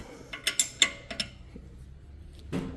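A wrench tightens rear brake bolts on a 2021 Toyota RAV4 AWD, producing a quick run of faint, close metallic ratcheting clicks and creaks, then one softer clunk after a short pause.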